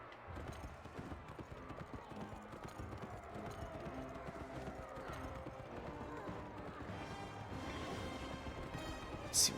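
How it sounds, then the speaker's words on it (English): Galloping horse in the Kameo: Elements of Power video game, a steady rapid clip-clop of hooves running continuously alongside game music, with an occasional whinny near the end. "Alright, KAMEO, let's get on that horse."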